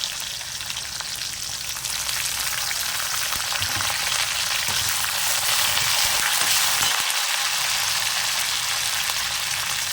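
Garlic cloves and curry leaves sautéing in hot oil give a steady, loud hissing sizzle with fine crackles, close up and continuous throughout, with no talk.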